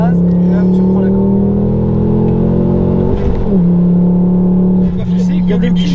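A tuned Ford Focus ST MK2 with over 300 horsepower drives under light throttle, a steady droning engine tone that briefly dips and recovers twice, with voices faintly present inside the cabin.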